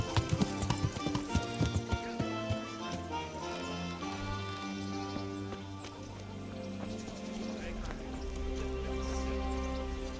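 A horse in the video game Kingdom Come: Deliverance runs with quick, rhythmic hoofbeats early on, then a whinny sounds amid layered game music and ambience, faint and fairly distant.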